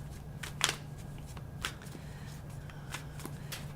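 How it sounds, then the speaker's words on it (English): Tarot cards being shuffled by hand, soft papery riffles and slides recurring irregularly over a steady low hum, close and fairly quiet. "I'm shuffling."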